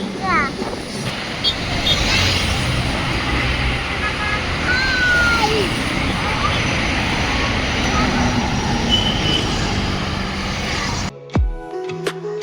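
A train passing along a railway line in the countryside, a loud continuous rumble and roar of wheels close by that cuts off abruptly near the end.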